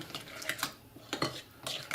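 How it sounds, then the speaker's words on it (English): A spoon stirs lemon juice into a salad dressing in a bowl, giving a few soft scraping and clinking strokes in quick bursts, close and fairly quiet, with no talking. "Of course, we're gonna give it another stir, just like so."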